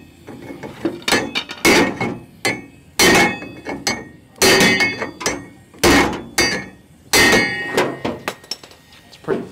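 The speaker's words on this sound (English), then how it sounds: "Now you're gonna need to get a hammer." A hammer taps sheet metal flat on a 1960 Chevrolet El Camino under restoration: sharp metallic strikes arrive in quick clusters with short pauses between, close and loud, with faint voices between bursts.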